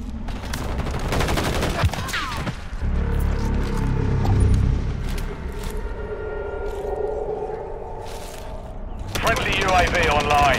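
Call of Duty MW3 gunfire crackles in rapid bursts and scattered single shots, with someone talking over the action.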